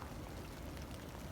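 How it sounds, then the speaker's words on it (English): Heavy rain falls outdoors, a dense, even hiss of drops striking surfaces, steady and without voices. "lots and lots of rain"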